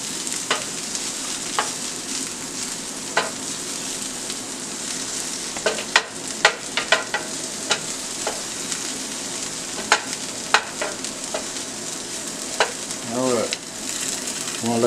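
Red link sausages fry slowly in a pan, a steady crackling sizzle with scattered sharp pops and occasional clanks of utensils.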